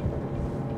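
Selva D 650 DS boat running at speed on calm water at about 4,000 RPM and 30 knots, a steady low engine and hull rumble with rushing water, continuous and close.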